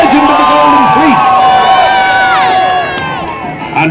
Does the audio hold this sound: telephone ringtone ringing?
no